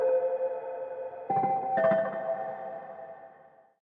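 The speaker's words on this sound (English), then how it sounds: "blur, which is an interesting reverb type effect, but it's actually a microsecond delay" A synth tone from the Stone instrument passed through a blur effect, a microsecond delay that smears tiny slices into a wash, sustained notes with two quick chord changes that ring on and fade out smoothly.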